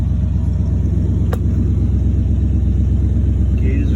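A 1979 Dodge Lil Red Express V8 with a Thermoquad carburetor idles after its first start in six months, a steady low rumble with a rhythmic pulse, close by and continuous.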